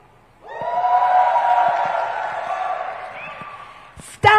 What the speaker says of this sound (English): Cheering part 2.